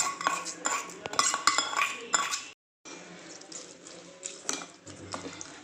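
Tempering tipped into coconut chutney and stirred in, with busy clinks and scrapes of a spoon against a metal vessel, then a brief gap and softer continued mixing, up close.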